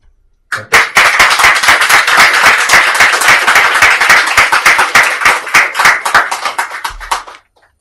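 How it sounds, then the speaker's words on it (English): An audience breaks into loud, sustained applause, many hands clapping together for several seconds before it fades out. "can we give you the round of applause that we wanted to after the love poem?"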